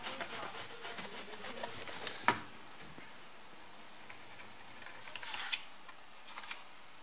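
Old foam being scraped off a BMW E30 dashboard: faint, continuous rasping and rubbing strokes at close range, with a couple of sharper scrape accents.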